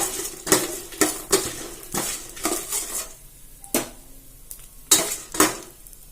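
Tamarind and dried red chillies roasting in oil in a pan, with repeated sharp metal clanks of a spoon against the pan in an uneven rhythm over a faint sizzle, close and fairly loud, no talk.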